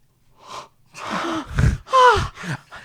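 A voice imitates a movie theater audience's collective gasp, a few sharp breathy intakes and snorty exhalations, close and loud, with no other sound.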